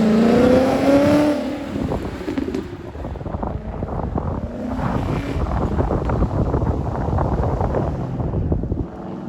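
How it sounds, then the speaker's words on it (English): Ford Mustang at an autocross event rising in pitch as it accelerates, then fading away into heavy wind buffeting on the microphone, with no voices. "Here comes the Mustang"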